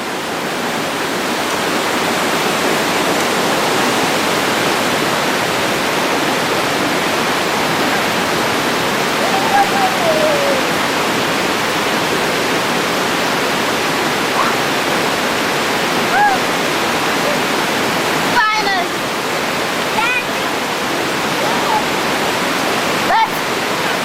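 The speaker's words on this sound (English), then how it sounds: "if you look up there, you'll see the waterfall" Victoria Falls in Dominica pours in a loud, unbroken roar of rushing water that holds steady throughout, with a few faint high chirps near the end.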